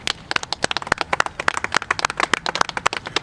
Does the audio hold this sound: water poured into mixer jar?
no